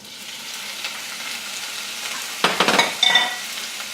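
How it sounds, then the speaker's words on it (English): Garlic and shrimp hit hot oil in a heated pan for Cajun shrimp and rice, giving a soft steady sizzle that turns into sharper crackling and a few clattering stirs of a utensil near the end. "We're going to go ahead and saute a little bit of garlic. And we're going to include our shrimp."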